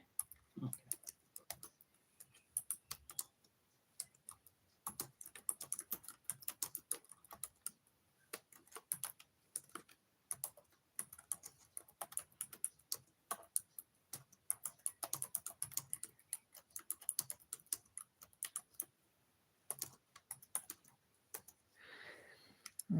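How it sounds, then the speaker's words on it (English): Someone types a message on a computer keyboard, producing a long run of quick, close, irregular key clicks with short pauses between bursts. "I'll just type a message."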